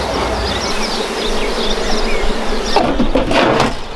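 Honeybees at an opened homestead hive in New Zealand, with a smoker in use, make a steady close droning buzz throughout, with individual bees whining past. Broadband puffs or rustles come near the end, and nobody speaks.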